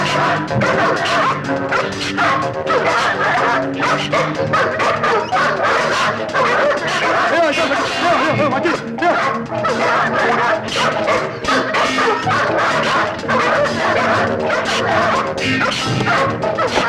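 A dog in a Malayalam film climax scene barks and whimpers amid a dense, loud mix of music and commotion, with some talk underneath throughout.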